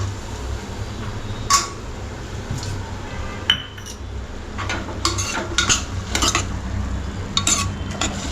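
Beans, peas and potatoes being stirred and sautéed in a pan, with repeated metallic scrapes and clinks of a utensil against the pan over a steady low hum.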